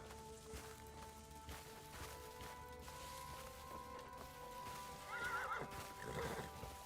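A wild horse in the video game Crimson Desert clip-clops along with steady hoofbeats, then lets out a loud wavering neigh near the end, followed by a shorter snort-like whinny, all over a low sustained ambient drone.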